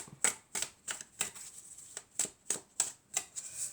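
Oracle cards being shuffled for a tarot-style reading, a series of crisp, riffling bursts repeating roughly every third of a second, close and fairly quiet, with no voices.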